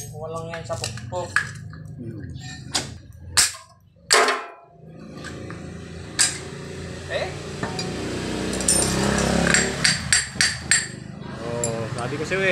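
Repeated sharp metallic hammer strikes knocking a stubborn part off a Euro 150 motorcycle during an oil seal replacement, irregular loud clanks and clinks spread across the scene, with someone talking between blows.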